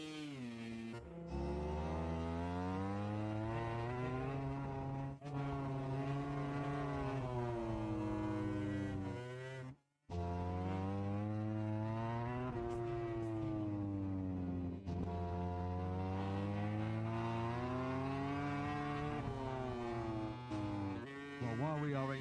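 A MotoGP racing motorcycle engine roars loud and close on an onboard lap with rider Fermin Aldeguer at a Valencia test session, revs rising and falling through gear changes with a brief cut near the middle.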